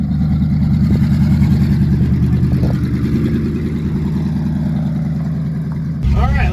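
A 1972 Ford F100 pickup's engine runs at a steady idle, a loud, close, rhythmic low throb that dips slightly midway, with a voice cutting in briefly near the end.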